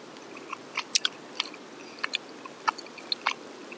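Soft, close chewing of tteokbokki, with a series of small wet crunches and bites spaced irregularly over a quiet background, no talking.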